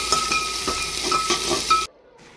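Onions browning in a pan for Nepali pumpkin curry, with a steady broadband sizzle and a few soft stirring scrapes before it cuts off abruptly into near silence.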